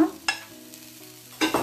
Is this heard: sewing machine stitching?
no